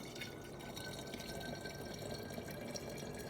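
Water poured back into a container while making raspberry mead, a steady splashing, trickling stream that runs close and fairly loud through the whole stretch with no voices.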